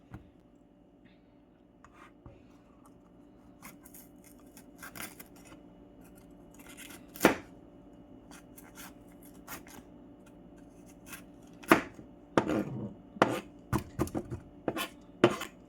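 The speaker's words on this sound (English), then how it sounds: "Cut however you like, as long as you kind of like take off the seed." A knife cuts and trims vegetables to remove the seeds while prawns are prepared for sweet and sour, giving sparse, quiet slicing and scraping sounds with a few sharper chops toward the end, close and without talking.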